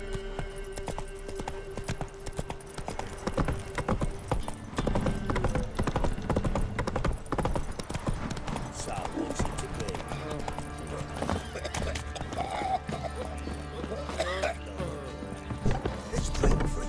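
In a Skellige setting of a video game, hooves of the horse Roach clop in a continuous galloping rhythm along with a neigh, mixed with game effects and a low background drone.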